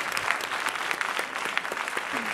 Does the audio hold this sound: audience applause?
yes